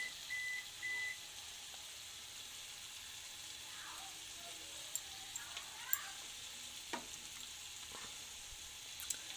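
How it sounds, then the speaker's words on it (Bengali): Ginger paste frying in the oil released from a Bengali cauliflower-stalk chachchari, a low steady sizzle with a few faint clinks and scrapes, quiet and close. "যে তেলটা বেরিয়েছে ওর ওপরে আদা বাটাটা দিয়েছি"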